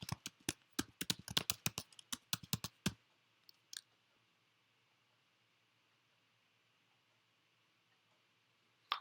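Quick bursts of computer keyboard typing while entering R code, a rapid run of crisp clicks for about three seconds, then a couple of stray taps and near silence, close to the microphone.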